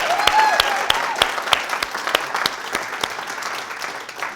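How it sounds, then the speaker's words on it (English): A roomful of workshop attendees applauding themselves, a steady wash of clapping with distinct individual claps standing out, loud at first and easing slightly toward the end. "I just want you guys to start out by giving yourself a round of applause."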